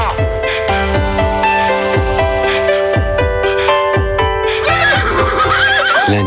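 A horse whinnies loudly in a French TV drama trailer, the neigh rising late in the clip over swelling orchestral music with rhythmic percussive hits.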